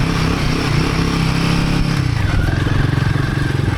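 A Himalayan 450 motorcycle in first gear threads a tight stretch of Michigan sandy singletrack, its engine close and loud with a steady, throbbing drone that rises slightly as the bike pushes on.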